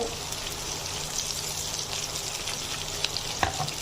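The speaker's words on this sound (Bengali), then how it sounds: "সামান্য ব্রাউন করে ভেজে নেব।" Chopped onions and sliced green chillies frying in hot oil make a steady, dense sizzle, with a few faint clinks near the end.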